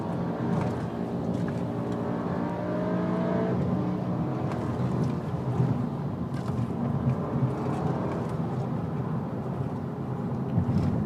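A Volkswagen Jetta TSI engine idles and revs steadily nearby, a continuous droning rumble with a rising whine early on, loud and unbroken throughout.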